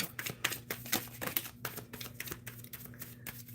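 Tarot cards are shuffled close up in rapid, crisp riffling bursts with papery flicks and slaps, a steady rhythm over a faint low hum.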